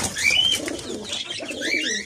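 A pigeon cooing nearby in soft, low, rolling calls, repeated twice in quick succession.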